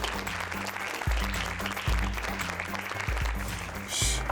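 Steady audience applause at a children's short film awards ceremony, loud and continuous, with a rhythmic music beat running underneath the clapping.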